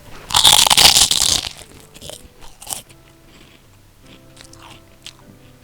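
A chip gets bitten with a loud, close crisp crunch lasting about a second, followed by softer chewing crackles and quiet mouth sounds.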